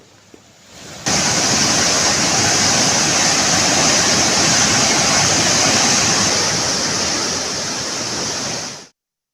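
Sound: dam water released, rushing into the Kaveri river

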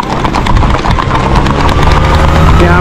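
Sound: horse clip-clopping while being ridden

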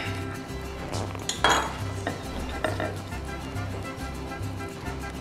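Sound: cutting crispy pan-fried breakfast burrito

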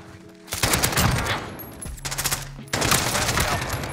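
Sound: AK rifle gunfire in a video game

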